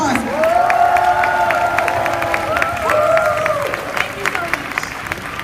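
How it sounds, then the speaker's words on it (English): Audience at a USANA corporate convention applauds and cheers in a large hall, steady dense clapping with whoops and crowd voices over it, a sustained tone running through, continuing for several seconds. "Let's give Tess and Orville and Inumerable a big round of applause."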